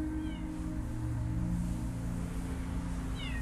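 A cat meowing in the PC video game Copycat, a few short mews heard over a steady hum of game music and ambience.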